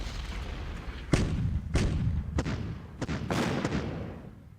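Bombing strike in the wargame Decisive Campaigns: Case Blue, a series of five or six sharp booming impacts spaced irregularly over a few seconds, loud and close, with no voices.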